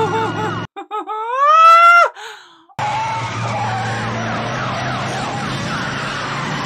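Police car sirens wail in a rising sweep, then cut off; a jumble of overlapping siren and engine noise from many police cars in The Blues Brothers (1980) follows, loud and continuous.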